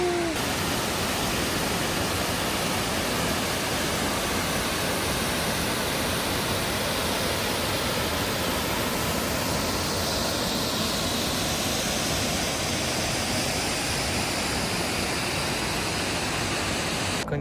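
A waterfall and river on an Oregon hiking trail roar with a steady, loud rushing wash that stays constant from start to finish, with no voices over it.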